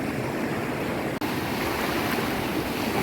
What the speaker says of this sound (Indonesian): Ini saya lagi bermain ombak sama anak saya.